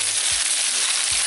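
Smoked turkey and smoked sausage cooking in a pot, a steady hissing sizzle close by with two faint low bumps, no talking.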